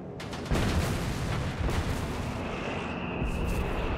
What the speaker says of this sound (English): He's bombarding here the American positions.